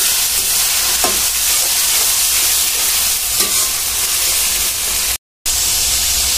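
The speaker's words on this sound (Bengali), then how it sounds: "মশলাগুলো এখন আমি কষাবো।" Onion and ginger paste frying in a pan for a boal fish curry, a steady dense sizzle with a few soft stirring scrapes, close and continuous, broken by a brief dropout near the end.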